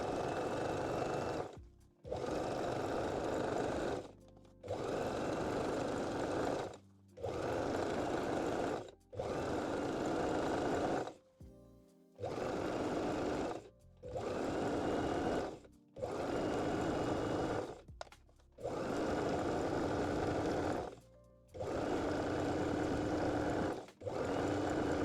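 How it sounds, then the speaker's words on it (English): A home sewing machine runs a 3-step zigzag stitch, attaching stretched elastic to jersey fabric with lace. The steady whirring comes in about ten even runs of a couple of seconds each, split by short stops, loud and close with no voices. "I'm using 3-step zigzag stitch today and gently stretching the elastic to keep the"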